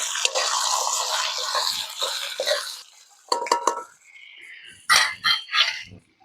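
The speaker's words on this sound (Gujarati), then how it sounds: "હવે આપણે આ પલાળેલું કઠોળ નાખી દેશું. મિક્સ કરી લઈશું." Soaked pulses get stirred into tomatoes in a cooking pot for Kathiyawadi khichdi: a long scraping swirl of the spoon, then a few sharp clinks and knocks of metal against the pot.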